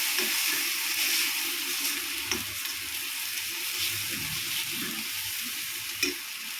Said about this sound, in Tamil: இந்த எண்ணெயிலே கொஞ்சம் நேரம் நல்லா வதக்கிடுங்க